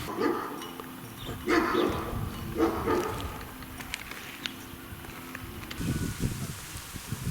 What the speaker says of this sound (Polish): Na razie tylko psa spotkaliśmy.